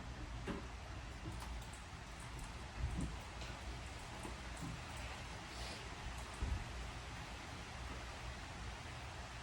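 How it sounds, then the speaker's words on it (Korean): Steady November rain hisses evenly throughout, a dense wash of falling drops with a few slightly louder taps standing out now and then. "그리고 11월에 비가 내리네."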